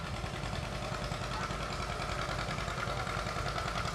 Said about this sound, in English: Today's tractor is driven by Justin Kantz. It's a 1956 John Deere 520.